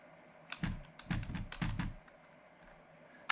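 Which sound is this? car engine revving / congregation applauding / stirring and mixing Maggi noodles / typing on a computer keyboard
typing on a computer keyboard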